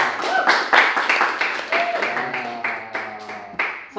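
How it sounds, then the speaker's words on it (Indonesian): Audience clapping at a Slam Down Palembang community gathering, a burst of hand claps that runs through the whole stretch with uneven rhythm, while voices and background chatter carry on over it. "Tepuk tangan dong"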